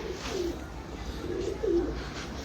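Breeder pigeons coo in a loft, a few low soft rolling coos rising over a steady background hum, fairly close and moderately quiet, with no talking.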